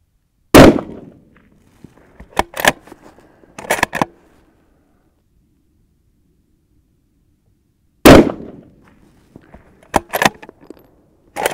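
Two sharp rifle shots fired at a target 300 yards away ring out loud and close, each followed by a few quieter clinks and clatters, with a long pause between them.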